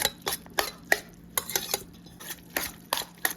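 Pasta being stirred through a tangy, spicy tomato sauce in a pan, heard as a series of short scraping clinks of a utensil against the pan, repeated in an irregular rhythm, close and moderately quiet with no talking.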